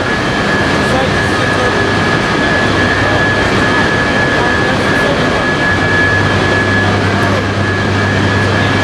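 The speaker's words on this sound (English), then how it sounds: "This is a turbine generator." A 400-megawatt power plant's turbine generator runs with a loud, steady industrial roar, constant low rumble and a sustained high whine, unbroken throughout at close range.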